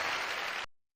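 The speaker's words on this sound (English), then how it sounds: "Give a round of applause" Brief burst of crowd applause lasting under a second before cutting off abruptly, dense and fairly loud, with no talk over it.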